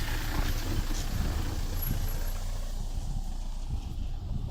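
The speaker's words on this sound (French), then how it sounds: "Je laisse encore la voiture passer." A car goes by on a road during an outdoor walk, a broad steady low rumble of tyres and engine filling the whole stretch with little change in level.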